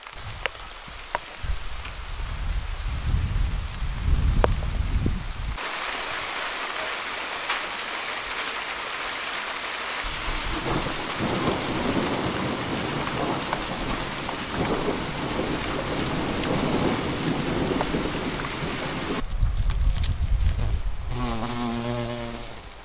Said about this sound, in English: it has already started to rain again it's very very difficult to go ahead when it's raining like this